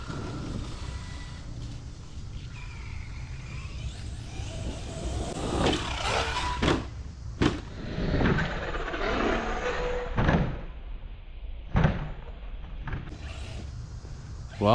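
An ARRMA Outcast 8S EXB radio-controlled car drives nearby, with its electric motor whining in uneven bursts as the throttle rises and falls, mixed with scattered knocks and clatter.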